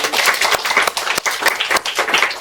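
A church congregation clapping during a Sunday service, a short burst of distinct hand claps that thins out toward the end.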